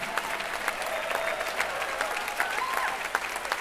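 Audience applause for a jazz band at a tribute concert in Charleston: a steady, dense wash of many hands clapping throughout, with a few faint whistles rising above it.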